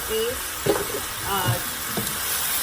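Vegetables stir-frying with mushroom seasoning, pepper and salt for Vietnamese combination crispy noodles, a soft sizzle with scraping stirs and a few clinks, while a voice talks over it.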